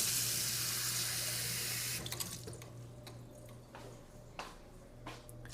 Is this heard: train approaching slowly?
no